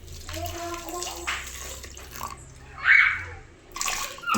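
Boiled water poured into a bowl of mashed green gram in a home kitchen, a soft splashing trickle building to a brief louder gush near the end, with faint background voices.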